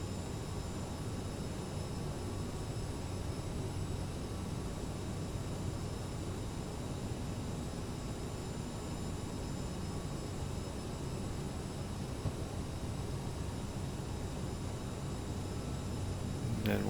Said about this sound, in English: I'm going to go up on the power. We're going to go full flaps and gear down.